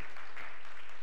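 A church congregation gives a short burst of clapping, many hands blending into a soft, even patter heard from a distance.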